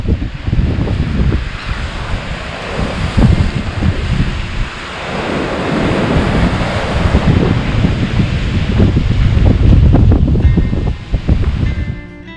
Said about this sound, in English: That's the ocean side where it goes into the blowhole.